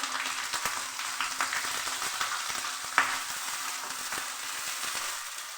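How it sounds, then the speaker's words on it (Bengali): Chopped onion and ginger fry in mustard oil, a loud, dense, continuous sizzle with crackling pops close up and one sharper snap partway through, no voices. "তেলের মধ্যে দিয়ে লাল করে পেঁয়াজ আদা ভেজে নিচ্ছি।"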